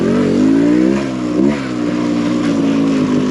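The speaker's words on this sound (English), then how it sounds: "Gearbox on Charles' bike is annoying for this." An enduro motorcycle engine revving loud and close, the pitch swinging up and down as it moves between gears, with a steady drone underneath and no speech.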